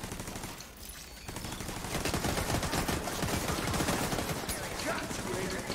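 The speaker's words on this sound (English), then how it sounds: "I just saw a guy crawling there, and I started shooting" Sustained rapid automatic gunfire in The Division 2, dense crackling bursts that build and keep rattling almost without pause, loud and close, with a voice speaking over the shooting.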